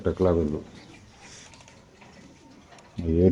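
BRPF racer pigeons coo in a loft or market, soft repeated throaty calls heard between bursts of nearby talk that open and close the moment.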